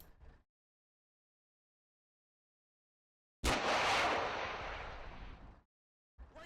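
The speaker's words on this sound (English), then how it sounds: "A perfectly executed ATGM shot" An ATGM missile fired in Combat Mission: Black Sea: after near silence, a single sudden loud launch blast followed by a roaring rush that fades over about two seconds, then quiet again.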